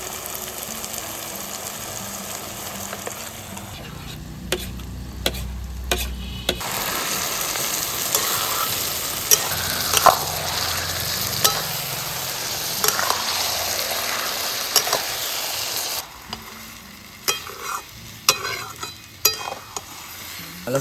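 Mashed eggplant bharta stirred and fried in a pan, a steady close sizzle with scraping stirs and utensil clinks, pausing briefly partway through before the frying resumes.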